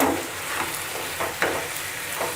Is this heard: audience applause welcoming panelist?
no